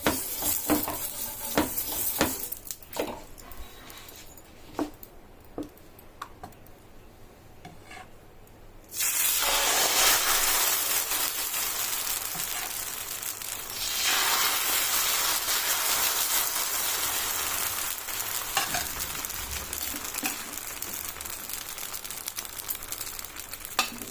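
Instant dosa roasting in oil on a pan. A soft, scattered crackle and clatter builds into a loud, continuous hiss of frying that carries on to the end, with no talking.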